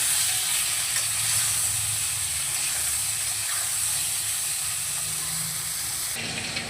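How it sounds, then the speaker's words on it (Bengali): Potato and eggplant pieces fry in hot oil with a loud, unbroken sizzle and hiss as they are stirred, the sound dropping in character just before it ends; no speech. "ওদিকে আলু বেগুনটা নাড়ছি"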